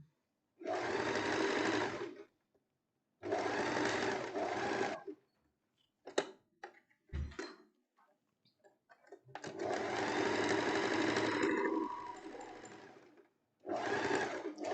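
A sewing machine stitches a blouse with Japanese-style sleeves in several loud bursts of steady running, separated by pauses with a few faint clicks and handling noises.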